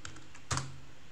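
A few soft clicks from a computer keyboard, close and quiet, with a single slightly louder keystroke in the middle.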